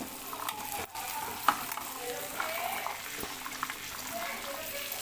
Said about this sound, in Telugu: ముందుగా కట్ చేసుకున్న బెండకాయ ముక్కలు అయితే వేసుకోవాలి